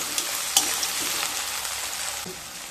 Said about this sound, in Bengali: দিয়ে দেব কেটে রাখা 3টা মিডিয়াম সাইজের পেঁয়াজ। পেঁয়াজ দিয়ে একটু নেড়ে নেব